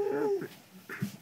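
A dog whimpers in a brief, thin, high whine that slides downward, followed by faint rustling, heard quietly at close range.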